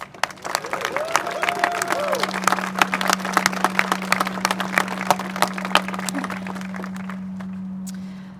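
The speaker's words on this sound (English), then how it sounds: "I think we should give them one more round of applause" Round of applause for a coalition at a press conference, steady crowd clapping that builds then holds for several seconds, with a constant low electrical hum underneath and faint voices and whistles mixed in.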